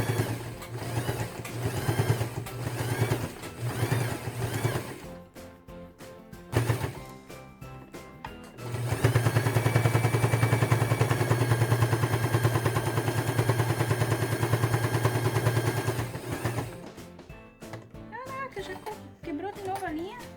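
A sewing machine stitches fabric for a cloth vaccination-card holder, topstitching close to the edge at about half a presser-foot width. It runs in two loud, steady bursts, one long, with short pauses between them.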